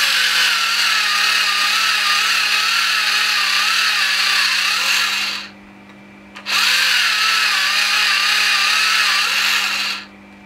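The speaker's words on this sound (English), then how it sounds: "I am going to sharpen it in my Derwent battery operated sharpener" A Derwent battery-operated electric pencil sharpener grinds a pencil in two sustained bursts of steady, loud motor whine with a brief pause between them, close up and with no talking.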